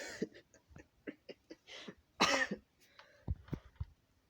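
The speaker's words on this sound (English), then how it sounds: "Let me clear my throat real soon." A person repeatedly clears their throat in a quick run of short, rough hacks and grunts, with one heavier, longer rasp in the middle, close and alone.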